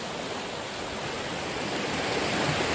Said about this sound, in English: The river splits around several little islands here, and usually under lower water conditions, where all this water is churning